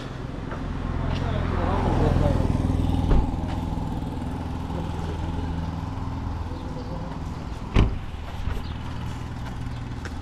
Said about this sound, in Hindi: किस प्रकार संडे के दिन पर भी जालना रोड पर ट्रैफिक की आवाज़ आई है